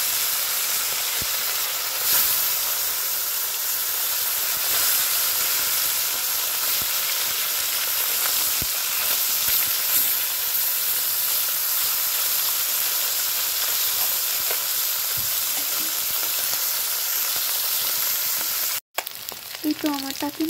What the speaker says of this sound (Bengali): এখন আমি টাকি মাছগুলো ভেজে নেব